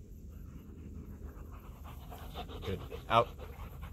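Belgian Malinois dog panting during tug play, a steady rapid breathy rhythm running throughout at moderate level, with a short louder burst near the end and a person speaking briefly over it.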